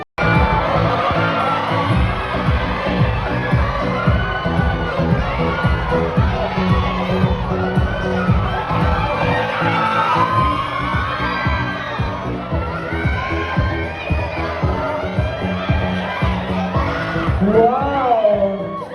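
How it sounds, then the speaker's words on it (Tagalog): At a live showbiz event in the Philippines, a large crowd cheers, shrieks and whoops without pause, loud and dense, with high excited voices rising throughout and an announcer's voice mixed into the din. "The crowd is going wild over these two."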